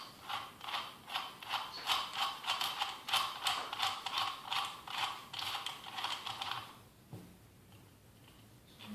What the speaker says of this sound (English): Next thing, remove the rear nut.